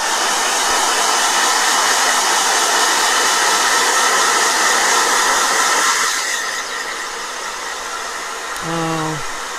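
A blow dryer runs with a loud, steady rushing roar that drops off after about six seconds, leaving a quieter hum and a brief rising chirp at the end.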